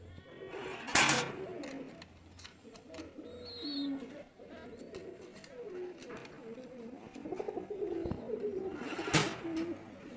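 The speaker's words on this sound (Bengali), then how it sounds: "এখন যে কবুতর জোড়া দেখতে পাচ্ছেন এটা আমার টেডি 41 ব্লাড লাইনের একটি কবুতর" Pakistani high-flyer pigeons of the Teddy 41 bloodline give repeated low, rolling coos in a quiet loft, with a couple of sharp knocks and faint speech in the background.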